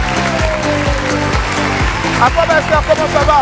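Applause from a studio audience greets a guest on a French live show, a steady dense wash of clapping running throughout beneath a loud male host's voice and background music.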